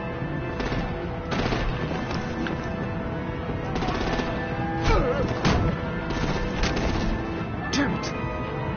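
Artillery and heavy gunfire in a video game combat scene crack out in scattered bursts amid a constant din of battle, with voices talking over the shooting throughout.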